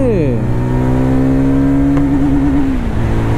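A Jawa FJ motorcycle engine revs up and settles into a steady, smooth drone, close and loud, with rising and falling pitch as the throttle changes and no talk over it.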